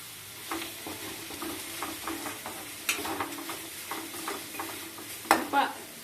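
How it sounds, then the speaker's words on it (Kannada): Methi bath being stir-fried in a pan, with a spatula scraping and tossing in repeated strokes over a low sizzle, close and steady, ending in a couple of louder scrapes, with no talk. "ಈಗ ಸ್ವಲ್ಪ ಹುರ್ಕೊಳ್ಳೋದು, ತಿರ್ಗಾ ಹುರ್ಕೊಳ್ಳಿ"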